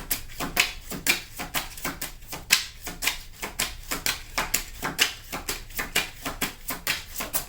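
Tarot cards drawn one by one and laid down on a table, making a steady run of light, close card snaps and slaps at roughly regular intervals, with no talk.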